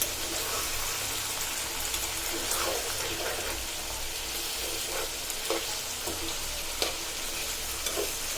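Beaten egg mixed with coriander leaves, green chilli and salt fries in a pan with a soft, steady sizzle, broken by light scraping and clinks from stirring.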